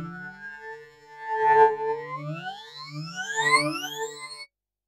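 A psytrance synth pad in Bitwig glides through randomly stepped pitches, then sweeps smoothly and steeply upward in bright layered harmonics, with distorted, effected texture, ending abruptly after about four and a half seconds.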